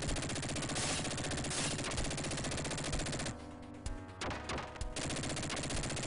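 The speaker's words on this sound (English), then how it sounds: "You have basically to use the machine gun at all times." Rapid, continuous machine gun fire from the Sega Genesis game Dick Tracy, loud and steady with dense repeating bursts, briefly thinning in the middle before resuming.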